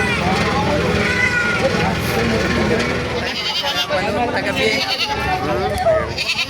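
Several goats bleat in loud, wavering cries, close by and overlapping, with rustling and a voice mixed in.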